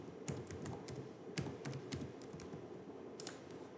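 Fingers tap out an IP address on a computer keyboard during network setup, a quiet run of irregular clicky keystrokes with short pauses, close and without voices.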